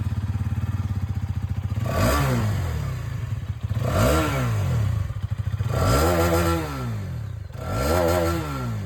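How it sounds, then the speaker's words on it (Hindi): A 2024 Hero Karizma XMR 210 motorcycle engine idles with a steady throbbing exhaust, then revs up sharply four times, each rev rising and falling back to idle, loud and close. "जो आवाज़ है सबसे पहले आप यहाँ पर करिश्मा की सुन लीजिए"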